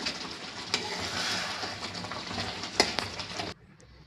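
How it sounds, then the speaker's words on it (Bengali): Thick tomato chutney with raisins being stirred in a pan, giving a soft continuous sizzle with scraping spoon strokes and a couple of sharp metallic taps, close by, before the sound cuts off abruptly near the end. "এবার একটু নাড়াচাড়া করছি"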